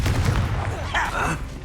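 A Confringo blast spell goes off in Hogwarts Legacy, a loud booming explosive burst with crackling tails, heard near and dense throughout a short moment of battle.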